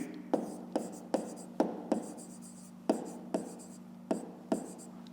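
A pen writes on paper during a fifth-grade maths exercise, with short scratchy strokes and taps in an irregular rhythm, close and fairly quiet.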